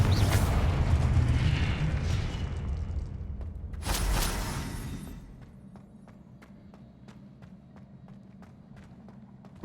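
Confringo fire spell from the Hogwarts Legacy video game: a loud, rumbling explosive burst at the start, then a second sharp blast near the middle, fading into quieter scattered clicks and low ambience.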